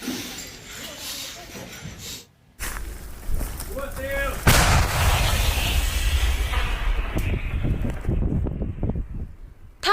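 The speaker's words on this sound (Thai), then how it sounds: "เสียงปืนใหญ่ฮาวิเซอร์ยังคงดังขึ้นเป็นระยะใกล้แนวรบในเมืองบักมุด" A single heavy howitzer boom erupts after a brief hush near the front line in Bakhmut, Ukraine, followed by a long rolling, rumbling echo that slowly fades.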